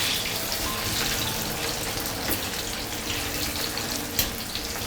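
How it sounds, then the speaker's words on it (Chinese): Eggplant pieces deep-fry a second time in hot oil over the highest flame, a dense continuous crackling sizzle with small pops, steady and close. "接着茄子再复炸一次哈。"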